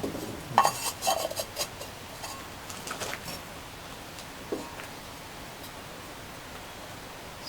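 Unglazed terracotta garlic pot lids handled after a kiln firing, giving a few light ceramic clinks and rustles early on before settling into near quiet.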